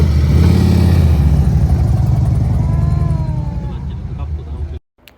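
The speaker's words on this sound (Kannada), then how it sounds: "ಯಾವ ಬೈಕ್ ಇದ್ದು? ಹಾರ್ಲಿ." A Harley motorcycle engine runs loud and close with a steady low throbbing rumble, gradually easing off before cutting out near the end.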